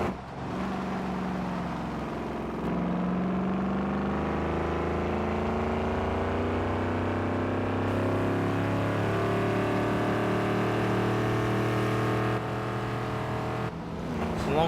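A V8 SUV engine in Forza Horizon 2 holds a steady, loud low rumble with sustained harmonic drone, shifting pitch slightly as it cruises, with brief dips near the start and end.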